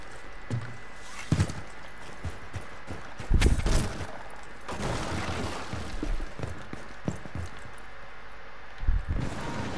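Sharp bursts of gunfire in a first-person shooter video game crack out irregularly over a busy, noisy background, with a couple of louder heavy blasts among scattered shots.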